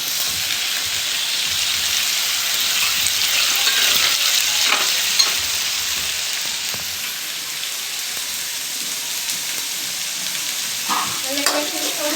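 Potatoes and onions fry in a pan, giving a steady close sizzle with scattered pops and the odd scrape of stirring, running continuously with no voices.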